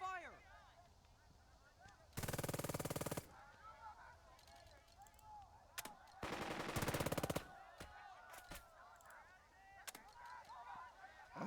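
Bursts of rapid automatic gunfire in the tactical war game Burden of Command, two long loud volleys and several single sharp shots, over a bed of scattered bird-like honks and faint battlefield noise.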